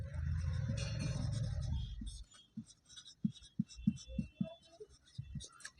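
Chalk or pen writing on a board during a maths lesson, a series of short, quiet scratching strokes in irregular rhythm, close by, following a stretch of low background sound.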